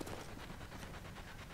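Dogs pant rapidly in Call of Duty Zombies, a quick rhythmic breathy huffing at low to moderate level, continuous through the short moment without voices.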